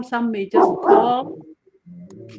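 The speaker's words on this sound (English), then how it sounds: "sorry about the background noise of the dogs" Dogs bark in the background, a few short barks and yips heard behind someone talking in the foreground.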